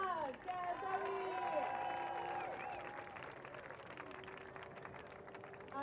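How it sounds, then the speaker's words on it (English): A crowd at an ultimate frisbee event applauds to honor a player: sustained clapping with whoops and raised cheering voices on top, loud at first and easing off slightly toward the end. "Yeah, applause!"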